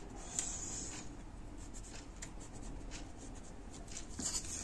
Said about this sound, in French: Je fais des petits tirets pour bien faire comprendre que c'est une ligne de pli